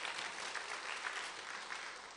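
Sustained, even applause from a church congregation at a Sunday-night evangelism testimony gathering in Daejeon, a dense crowd of clapping hands that holds steady and eases off slightly at the close.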